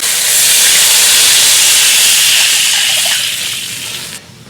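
Water coming to a boil in a wok seasoned with bean paste, five-spice powder and salt: a loud, close, steady hiss and roil of bubbling that fades slightly near the end.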